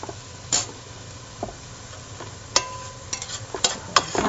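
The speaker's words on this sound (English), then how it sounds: "I am ready to stir your onions for you" Onions are stirred in a pan with a soft, continuous low sizzle under scattered light scrapes and taps from the utensil. The scrapes come more often toward the end, and no one speaks.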